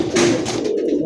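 Fancy pigeons, Giribaz and grizzle birds, coo loudly and close by in a brief throaty burst with no voices over them.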